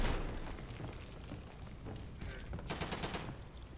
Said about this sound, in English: Somebody just tossed a grenade in.